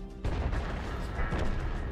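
Heavy booming artillery fire from the British FV3805 self-propelled gun in World of Tanks, a loud blast that rolls into a dense, rumbling wash with no speech over it.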